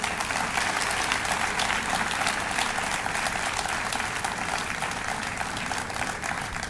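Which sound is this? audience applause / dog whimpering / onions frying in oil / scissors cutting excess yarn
audience applause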